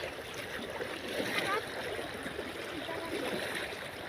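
A strong river current flows steadily with a broad, even rushing wash and some gurgling, continuous throughout at moderate level.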